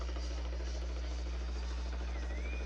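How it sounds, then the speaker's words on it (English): An Aerovac Life Team helicopter lands near a high school football field at evening, its rotor and engine a loud, steady, continuous drone with no talk. "as we have a helicopter landing at Parkland Hospital"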